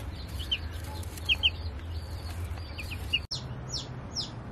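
Hens cluck in short, scattered bursts inside a coop kept apart from new baby chicks, with faint chirps over a low steady hum.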